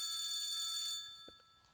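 Telephone ringing in an Unreal Engine 5 horror video game, a bright metallic bell trill that sustains for about a second, then fades and cuts off, followed by faint clicks.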